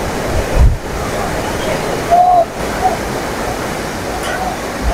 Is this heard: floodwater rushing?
yes